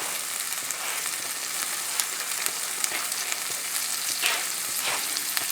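Butter and fresh garlic, chopped with olive oil, sizzling in a pan over moderate heat with a steady close crackle and fine spitting throughout.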